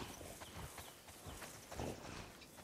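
Horse hooves clop at a walking pace in The Last of Us Part II, soft and fairly faint, a loose rhythm of muffled thuds over a hissy background.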